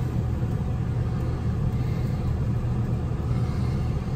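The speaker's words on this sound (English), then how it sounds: "The blower motor is running non-stop though." A York package unit's HVAC blower motor runs continuously, a steady low rumbling drone with airy hiss on top, unbroken and even throughout with no talking.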